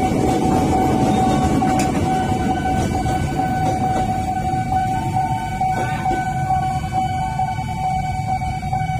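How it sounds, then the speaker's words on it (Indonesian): Train pulling into Pondok Jati station from the Pasar Senen direction, a loud continuous rumble of wheels and cars with a steady high horn-like tone running throughout. "Masuk kereta dari arah Pasar Senen."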